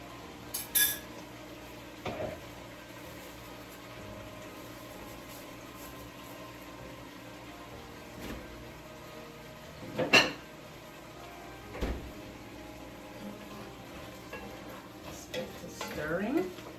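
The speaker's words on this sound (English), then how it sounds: "Stirring." Cabbage and sausage are stirred in a pot with a spoon, giving scattered clinks and scrapes against the metal over a faint background hiss, with a few sharper knocks standing out at intervals.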